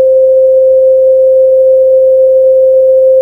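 A cyborg's sonochromatic device plays a pure, steady electronic sine tone at F sharp, representing skin colour. It is loud and unbroken for about three seconds, with no talking.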